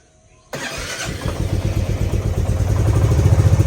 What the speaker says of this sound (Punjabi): ਜੇ ਚੰਗੀ ਤਰ੍ਹਾਂ ਲੰਬੀ ਜੀ ਸੈਲਫ ਮਾਰ ਦਵਾਂ ਨਾ ਫਿਰ ਇਹਨੇ ਬੰਦ ਨਹੀਂ ਹੋਣਾ ਸੀ